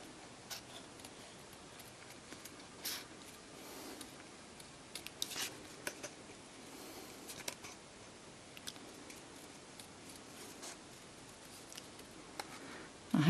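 Scissors snip paper around a balloon die-cut shape, giving quiet, close, irregular ticks and crisp cuts scattered through an otherwise hushed room.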